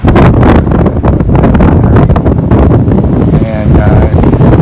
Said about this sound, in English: Someplace where it's a little bit less windy, but as you can see, it's still pretty windy.